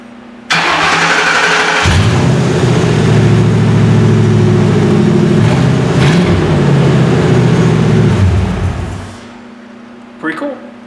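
A Ford F100 truck engine, wired through jumper leads to its original ignition on a Crown Victoria frame, cranks and catches, runs loud and close at a steady idle for about seven seconds, then shuts off and winds down.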